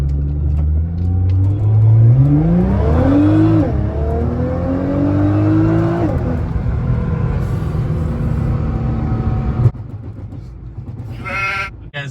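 A Nissan GT-R in sport shift mode accelerates hard, its engine note climbing through rising gear pulls with shifts between them, loud from inside the cabin, then settling to a lower drone.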